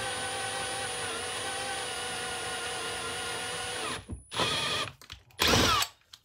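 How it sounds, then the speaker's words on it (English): A sharp-bit power drill bores holes during a radio-controlled model upgrade: a steady loud whirring drone for several seconds, then short stop-start bursts as the drilling stops and restarts. "Man, this is tricky to drill."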